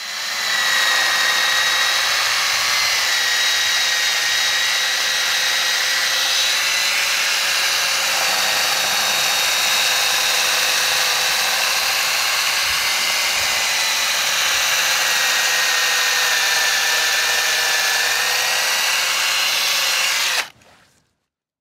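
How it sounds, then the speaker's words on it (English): A DeWalt cordless drill runs at full speed with a polishing pad on the paintwork of a Nissan GTR, a loud, steady high-pitched whine held for about twenty seconds before it cuts off abruptly. "I got to work with the DeWalt on full whack, moving mostly in an anti-clockwise direction"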